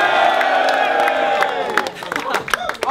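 Crowd at a Don't Flop rap battle between Dialect and Ogmios, cheering, whooping and clapping loudly. The noise sits under a host's voice, then breaks into sharp bursts of shouts and claps.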